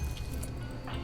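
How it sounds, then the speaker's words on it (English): A cat laps water from a bowl, giving faint, quick wet drips and small squishy splashes, close by but soft, without anyone talking. "Cat's over here drinking her water."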